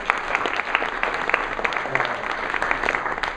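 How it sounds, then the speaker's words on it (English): A roomful of real estate investors at a club meeting gives a round of applause. Dense, steady clapping with scattered sharper claps sounds close and moderately loud, with no one speaking over it. "So give those guys a big round of applause if you would."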